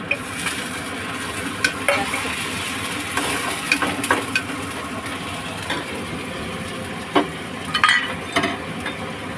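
Crab curry ingredients with onion being mixed in a frying pan, a continuous sizzle under scattered scraping and clinking strokes of a spoon against the pan, irregular and close, with no talk.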